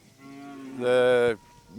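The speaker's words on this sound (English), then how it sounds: "We're in the hills and we're running a communal herd of cattle." A single loud cow moo rings out from a communal cattle herd grazing in the hills, swelling to a strong sustained bellow before cutting off, with no talk over it.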